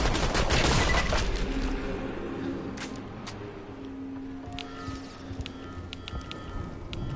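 Rifle gunfire in the video game Tiny Tina's Assault on Dragon's Keep: a loud, rapid burst of shots opens, then sparser, fainter reports and game noises trail off.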